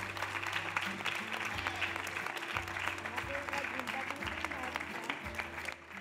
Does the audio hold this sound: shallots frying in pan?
no